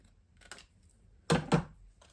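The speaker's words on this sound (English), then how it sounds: "I'm just going to take some big scissors" Big scissors snipping card-making paper: two quick, close cuts in succession, crisp and fairly loud, with a fainter snip earlier in a quiet room.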